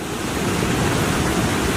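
Floodwater from a village stream in Kullu Manali during the 2023 floods rushes loudly and continuously, a thick unbroken roar of churning water heard close by with no voices.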